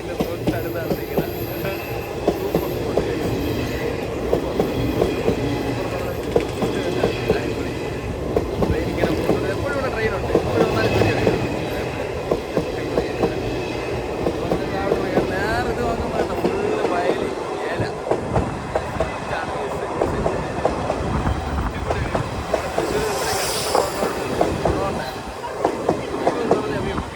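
A train rolls right beside the listener near Uthralikavu temple, Wadakkanchery, with a sustained loud rumble, rhythmic wheel clatter and occasional squeals, and voices are faintly heard over it.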